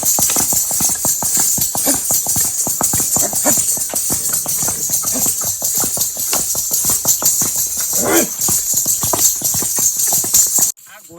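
A mare steps in place on a hard surface, her hooves clip-clopping in a steady, busy rhythm, close and loud throughout with some rattling mixed in, stopping abruptly at the end.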